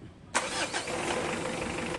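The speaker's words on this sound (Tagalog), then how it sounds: "Tapos pa-start ko na itong makina." A Mitsubishi Adventure engine cranks and catches at once after an oil change, then settles into a loud, steady, slightly uneven idle close by.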